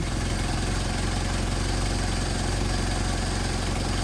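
A Mercedes 190SL engine idles on Solex carburetors, a steady, fairly loud, close rumble with an even low throb and no talk.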